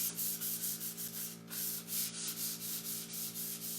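Fine-grit sandpaper rubs by hand across a painted wooden nightstand, making close, rhythmic back-and-forth scratchy strokes at an even pace with no talking.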